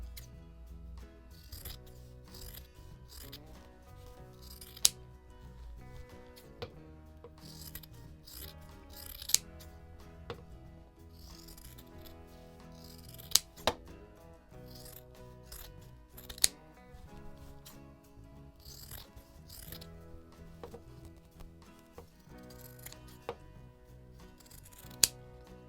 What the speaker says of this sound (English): Now you need to cut the excess fabric and then we can turn it.